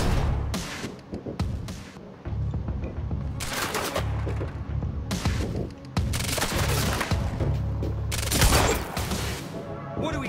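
Bursts of rapid gunfire from a Quantum Break shootout come in several loud, dense volleys with brief gaps between them, overlapping sharp impacts and chaotic combat noise.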